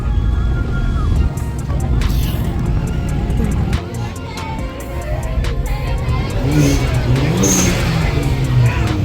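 Many cars in a car-community convoy escorting a teen to prom rumble and rev nearby, engines swelling as vehicles pass, with crowd chatter mixed in.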